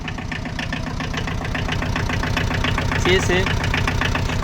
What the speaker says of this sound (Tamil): வண்டியோட இன்ஜின் சவுண்டு பாருங்கள்